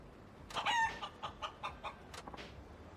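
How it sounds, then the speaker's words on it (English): A chicken clucks in a series of short, evenly spaced bursts in Yakuza 5, a city-street video game, with one louder squawk near the start and quieter clucks that trail off. "There's a man cornering a chicken."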